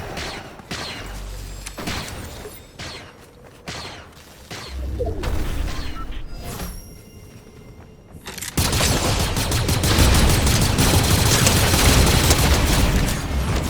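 Gunfire in a Fortnite Battle Royale match: loud repeated shots and rapid bursts with booms, ending in dense continuous firing that fills the space.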